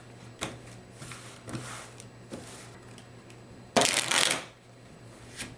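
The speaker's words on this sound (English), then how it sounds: "you would shuffle the deck and start over" A deck of playing cards is shuffled during a solitaire game: several soft riffles and taps, then one loud, dense burst of cards riffling together near the end, close up and without speech.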